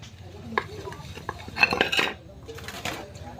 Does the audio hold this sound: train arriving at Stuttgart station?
no